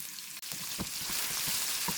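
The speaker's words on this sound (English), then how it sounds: "Add potatoes cut into long strips" Long potato strips frying in oil in a pan give a steady, close, hissing sizzle with a few faint stirring taps, continuous and without any voices.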